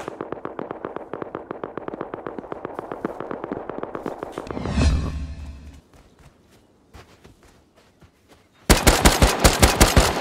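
Rapid bursts of AK rifle fire in the survival game Rust, loud and close, with a long sustained burst, a quieter gap, then another sharp volley at the end.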